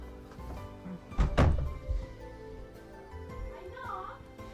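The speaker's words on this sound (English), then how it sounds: "I knocked!" Knocks on a door in the visual novel game The Fruit of Grisaia: a couple of heavy thuds near the middle, fairly close, over steady background game music.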